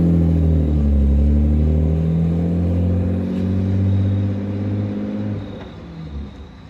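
A BMW E36 with an M50 engine idles with a deep, steady rumble, rising briefly as it revs, then settling and fading slightly toward the end.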